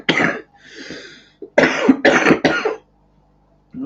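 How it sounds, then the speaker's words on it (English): A string of harsh, close coughs, several in quick succession with a raspy breath between them, loud against an otherwise quiet room. "cough and fart at the same time"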